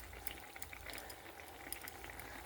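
A fig and rohu fish curry simmers in a pot in a village kitchen, giving a faint, steady low bubbling with scattered soft pops and crackles.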